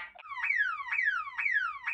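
A voice imitates an alarm clock in the manner of the cartoon character Blue, giving four quick, evenly spaced falling electronic-style beeps, close and clear with no other sound.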